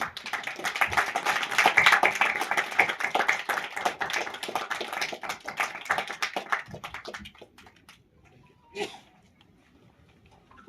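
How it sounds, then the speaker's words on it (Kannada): Dense applause fills a room of media guests at a Kannada film team's press meet, loud and steady for about seven seconds before tapering off into near silence, broken by one brief knock. "ನಿಮಗೂ ಒಂದು ಚಪ್ಪಾಳೆ ಕೊಡೋಕ್ಕೆ ಇಷ್ಟಪಡ್ತೀನಿ"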